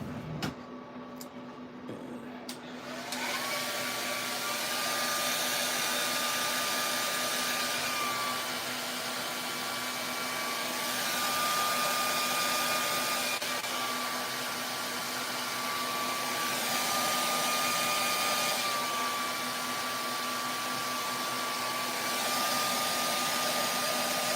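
A hair dryer blows steadily and close by, drying paint on a skin-tone portrait painting, a continuous whirring rush with a faint shifting tone that runs for over twenty seconds after a brief start.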